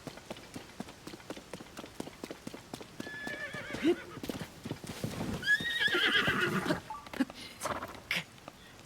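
Horse hooves clip-clop in a steady galloping rhythm from Zelda: Tears of the Kingdom, with a few whinnies and neighs rising over them, moderately loud throughout.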